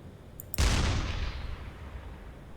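A single heavy U-boat deck gun shot in a video game booms out sharply, then its long rumbling decay rolls on for about two seconds over steady background noise.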